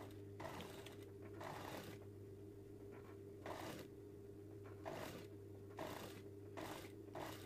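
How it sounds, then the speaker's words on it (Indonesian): A sewing machine stitches the side seam of a draped cowl-neck knit top. It runs in short, steady whirring bursts with brief pauses between them, close and moderately quiet, and no voice is heard. "kita jahit pelan-pelan aja teman-teman ya kemudian kita jahit untuk bagian sampingnya"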